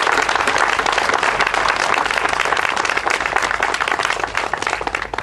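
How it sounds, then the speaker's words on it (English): Steady, dense applause from an audience at a 2008 safety fair 9/11 commemoration, loud and sustained throughout with no talking over it. "I hope you would join me in a round of applause for those people with us today."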